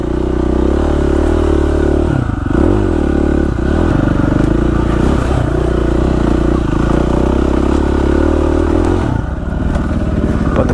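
A KTM 450 SX-F four-stroke dirt bike being ridden, loud, close engine drone throughout with repeated rises and dips in revs, some clattering and rough ground noise mixed in.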